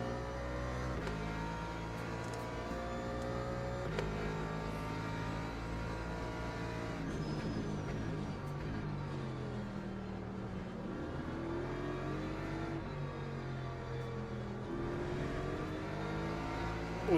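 BMW race cars in a pack in the racing sim Le Mans Ultimate; a steady, layered engine drone with rising and falling revs from multiple cars close together, continuous and moderately quiet, no talking.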